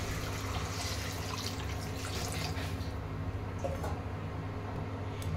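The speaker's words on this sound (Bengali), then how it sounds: "এবার কিন্তু আমি জলটা দিয়ে দিচ্ছি।" Water is poured into fully cooked spice masala in a pan while making a bata fish tel jhal, a steady close splashing and bubbling with faint dripping throughout.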